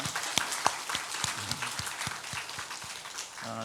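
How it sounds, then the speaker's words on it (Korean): A congregation at a Sunday church service claps, soft scattered applause with distinct individual claps heard fairly near, fading at the end. "우리 영유아부를 위해서 여러분 박수 한번 쳐주시기 바랍니다"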